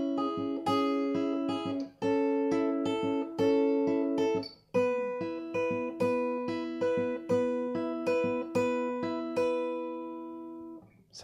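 Steady finger-picked acoustic guitar arpeggios move through six minor, four and one chords, each chord restruck in even rolling patterns, close and clear with no voices.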